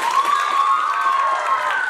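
A Morigaon audience applauds a singer, a dense, steady wash of clapping and crowd noise that holds at an even, fairly loud level for about two seconds.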